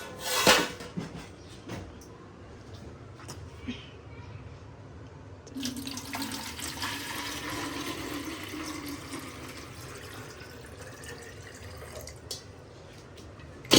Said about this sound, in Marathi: आयांची पण पाण्याची बॉटल भरून ठेवते